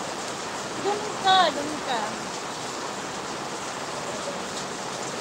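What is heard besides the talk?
rain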